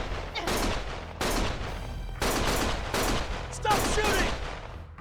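Gunfire in the Lost Judgment video game comes as loud, close bursts of rapid shots in several volleys with short gaps between them, with some faint voices mixed in.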